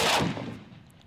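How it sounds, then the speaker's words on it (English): A single loud shot from an AK-50 V3 rifle during a test firing, a sharp close blast that decays quickly into a fading echo, with no talking. "AK-50 V3 completed, assembled, test fire"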